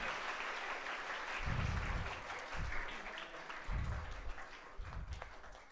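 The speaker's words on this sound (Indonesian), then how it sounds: "Tepuk tangan dong" An audience claps in steady applause during a sermon, a dense patter of hands running through the whole stretch at moderate distance, with a low voice briefly sounding in bursts underneath.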